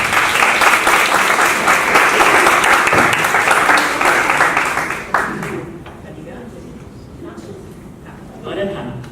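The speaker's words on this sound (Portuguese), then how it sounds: "Palmas para os três novamente." An audience at a design panel applauds the speakers, loud sustained clapping that fades after about five seconds into quieter scattered claps and murmuring voices.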